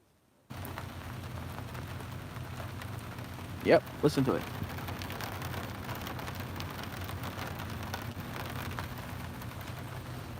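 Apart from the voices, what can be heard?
heavy rain downpour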